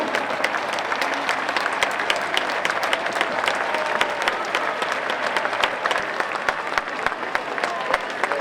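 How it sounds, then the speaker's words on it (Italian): A large outdoor crowd at a papal mass in the Parco di San Giuliano in Mestre applauds steadily, with dense continuous clapping and scattered sharper claps throughout. "Applaudiamo il successore di Pietro nelle terre di Marco."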